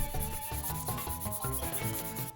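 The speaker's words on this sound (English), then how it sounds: "Wiped it off and resorted to sandpaper instead." Sandpaper scrubs across a piece of PVC in quick, rhythmic back-and-forth strokes, close and fairly loud, about five rasping passes with no voices.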